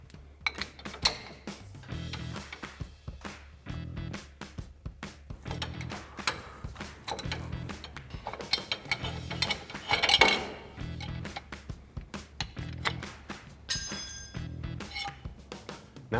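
A breaker bar works on the inner tie rods of a RAM 1500 pickup, giving repeated metallic clanks and ratcheting clicks in a loose rhythm, moderately close and fairly quiet.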